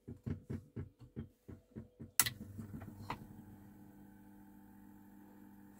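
Plank Norris 8 Super 50 projector motor starting up after a series of rhythmic knocks: a sharp clunk and brief bursts give way to a steady low hum and whir that continues evenly, fairly quiet and close.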